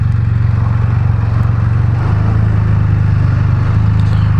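Close, loud idle and rev of a Can-Am Spyder F3 S roadster, its deep throaty exhaust thrumming steadily with a slight shift in pitch midway, no talking over it.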